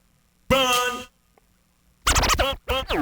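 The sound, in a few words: vinyl record scratching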